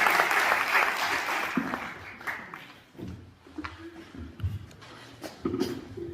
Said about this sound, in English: huge round of applause for the young debaters